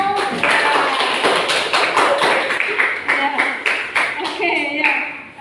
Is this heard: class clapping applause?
yes